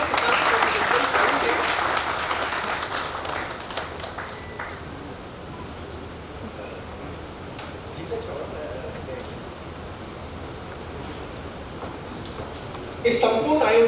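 Audience applause at a stage ceremony, loud dense clapping at first that thins and fades to a scattered patter, then a brief burst of claps and clatter near the end.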